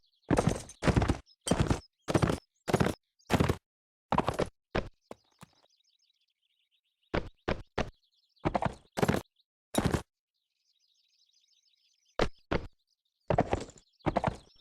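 Horse hooves clop in quick rhythmic bursts with pauses between in the video game Mount and Blade: Napoleonic Wars, crisp and close, with faint chirping in the background.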